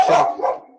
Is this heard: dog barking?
yes